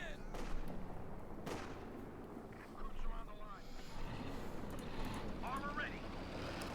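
Gunfire and artillery fire rumble in Company of Heroes 2 as units fire at a Panzer IV tank, several booming shots and crackling fire set under ongoing talk.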